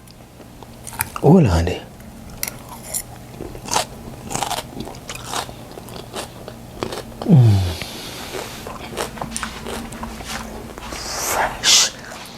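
Crunchy fresh bell pepper being bitten and chewed up close, with two loud crisp bites followed by wet crunching, while a person speaks briefly in between.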